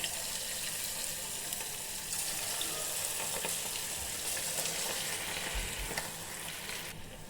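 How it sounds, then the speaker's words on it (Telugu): Idli batter punugulu fry in hot oil in a kadai over a low flame, a steady, close, continuous sizzle with faint bubbling throughout. "ఇలా 2 వైపులా గోల్డెన్ కలర్ వచ్చేదాకా లో ఫ్లేమ్లో మనము ఇవి ఫ్రై చేసుకోవాలండి"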